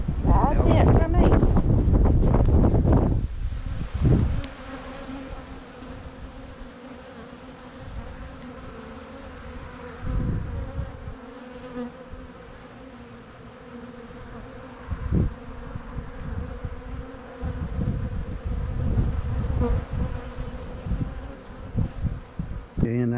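Honey bees buzz continuously in an open-air backyard, a steady hum under wind gusts and a few loud bursts near the microphone at the start.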